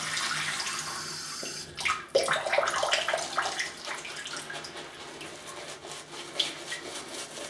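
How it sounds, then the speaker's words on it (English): Water runs from a tap onto a shaving brush with soft Oumo knots, a gentle splash that swells briefly then settles into a steady trickle with light dripping and rubbing, close by. "I'm just going to add a little bit of water here."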